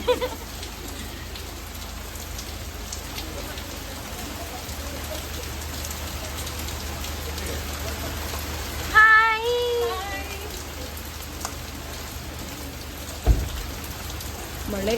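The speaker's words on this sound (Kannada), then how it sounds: "ಇದು ಮಳೆ ಗಾಯ್ಸ್" Heavy rain pours steadily with a dense, even hiss of drops on surfaces, continuous and loud throughout, with a brief vocal sound partway through and a short thump near the end.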